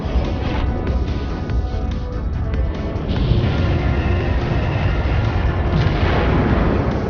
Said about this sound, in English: All batteries return fire.